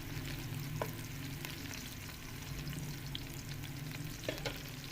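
Chopped onion sizzles steadily in hot oil in a pan for an aloo matar sabji, a continuous close crackle with a few faint clicks of stirring, no voices.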